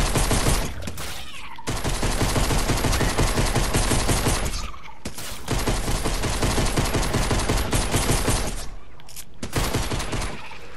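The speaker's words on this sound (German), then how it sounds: "Diese Explosionen." Dense, continuous automatic gunfire and blasts fill a Fortnite zombie mission, loud and close, in long bursts broken by a few brief pauses.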